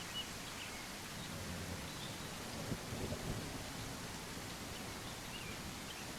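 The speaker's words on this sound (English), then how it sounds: "So this is what it looks like when it rains." Rain and distant thunder in the horse-riding video game The Legend of Khiimori, a steady hiss of rainfall with a soft low rumble of thunder midway, continuous and even.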